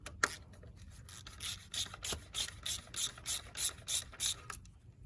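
A ratchet removes the sight glass plugs on a Honda TRX 400 ATV engine, a close run of about a dozen rhythmic clicking pawl strokes, quiet and mechanical.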